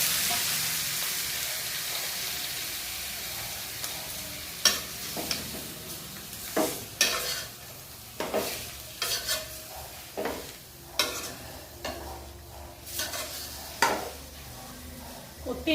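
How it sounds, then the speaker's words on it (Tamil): Chopped tomatoes sauté in a hot pan for tomato thokku, a soft sizzle underneath sharp, intermittent scrapes and knocks of a spoon stirring against the pan. "நறுக்கி வச்சிருக்க தக்காளியை அதில் கொட்டிடுவோம்."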